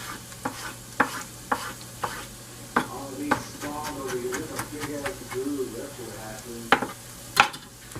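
Onions and tomatoes seasoned with Old Bay fry in a pan: a low sizzle with sharp intermittent spatula scrapes and clicks, heard under a person talking.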